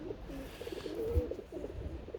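Pigeons coo in a soft, low, rounded rhythm, a few phrases repeating at close range over a quiet background.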